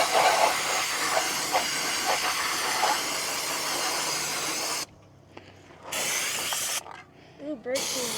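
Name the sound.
brake cleaner aerosol spraying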